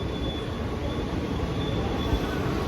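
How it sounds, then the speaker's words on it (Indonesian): A KRL commuter electric train bound for Cikarang pulls into a station, steady loud rumble of wheels on rails with a thin high squeal running throughout. "Ini dia KRL menuju ke Cikarang."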